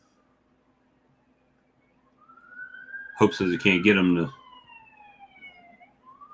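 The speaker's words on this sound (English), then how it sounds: "And there goes the nightly siren." A siren outside at night, a long rising and falling wail heard faintly in the distance, running under people chatting nearby.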